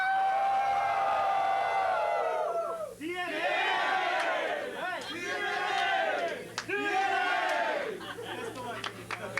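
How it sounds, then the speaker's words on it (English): A group of people shouting a rowdy cheer together in a room, loud whoops and yells rising in repeated bursts with overlapping voices and brief lulls between them. "we should all join in a DNA cheer."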